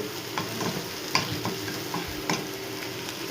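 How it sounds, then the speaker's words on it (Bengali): Chow mein noodles with egg stirred in a hot frying pan, a steady sizzle close by with scraping strokes of the spatula at irregular intervals. "তারপর চাউমিনটা দিয়ে মধ্যে নাড়িয়ে দেবো"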